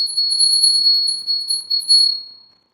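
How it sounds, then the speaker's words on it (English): A handmade Tibetan bell from Cuba rings with a bright, sustained metallic tone, struck several times in close succession before fading to silence. "This is a Tibetan bell."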